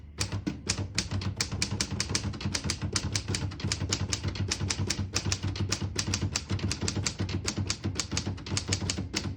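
Rapid, steady keystrokes on a 1935 Corona Standard portable typewriter, a dense run of crisp mechanical clacks close up with no talking.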